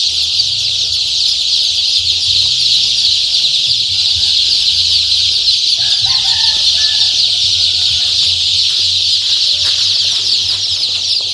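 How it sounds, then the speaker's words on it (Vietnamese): A brooder full of three-day-old chicks cheeps constantly in a loud, dense, shrill chorus with occasional clucks, heard close up over a low steady hum. "Mấy gà này nó la nó kêu quá"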